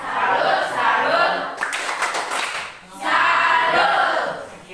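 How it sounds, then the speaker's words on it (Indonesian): Children clap a rhythmic classroom clap chant in a lesson, quick bursts of hand claps in short rounds separated by brief pauses, with voices chanting along. "Tepuk salut."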